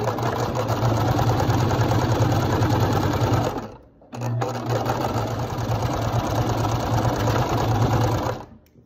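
A sewing machine stitching a dress, running loud and steady with a fast dense whir, stopping briefly after about four seconds, then resuming at full speed before winding down at the end.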